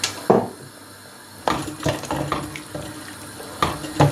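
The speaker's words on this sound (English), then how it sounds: "bring the ingredients to a boil really quick, you know, first, and then add the rest of the water" Water splashes into a soup pot for leek and potato soup, a pouring rush in bursts with clinks of metal and pot sounds between them and no talking.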